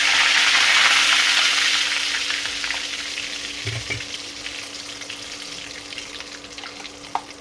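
Curry leaves and asafoetida hitting hot oil for a sweet and sour ginger pickle give a loud, close burst of crackling sizzle that gradually settles to a quieter fry, with a faint clink near the end.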